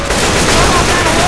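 Gunfire in the zombie shooter Left 4 Dead 2 comes as a loud, dense burst of rapid shots that fills the whole short moment without a break.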